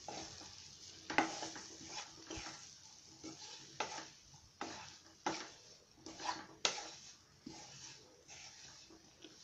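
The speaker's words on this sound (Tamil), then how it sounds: "ஒரு நிமிஷம் இந்த மாதிரி பரட்டி கொடுக்கணும்" Masala with coriander powder sautéed on a slow flame for Chettinad kulambu, stirred in a pan with a rhythmic series of scraping strokes over a faint sizzle, close and fairly quiet.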